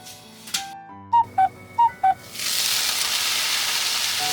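A covered pot of chestnuts in water heats on a stove between high and medium heat. Four short electronic beeps sound first, then a steady, fairly loud hiss of heating begins and continues alone.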